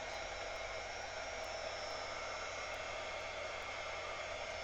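Steady, unbroken whoosh of a hair dryer used to dry gel medium on a scrapbook layout, loud and constant with no talk.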